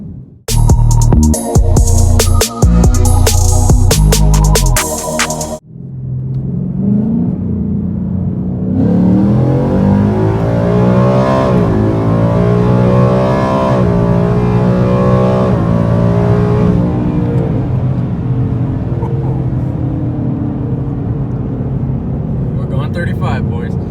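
A 2018 Ford Mustang GT Performance Package 1 makes a loud, close accelerating pull after a few seconds of music. Engine pitch climbs repeatedly and drops at sharp, aggressive gear shifts before the sound eases off.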